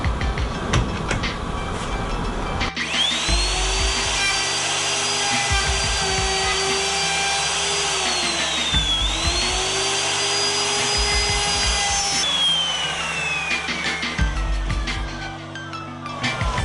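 A router fitted to an EZ-Pro dovetail jig from General Tools cuts the pins of a wood joint. The loud motor whine is close, and its pitch dips and recovers as the bit passes through the workpiece, with no talk over it.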